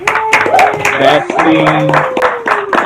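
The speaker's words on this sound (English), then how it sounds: "Let us clap for our gracious host" An audience claps for the host, with scattered hand claps under overlapping voices that talk and exclaim throughout.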